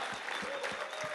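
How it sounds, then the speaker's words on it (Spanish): A church congregation claps steadily in a broad wash of applause, fairly loud and continuous, with no clear voice on top. "Dale un aplauso más fuerte al Señor y vamos a ponernos de pie."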